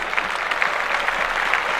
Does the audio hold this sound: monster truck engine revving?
no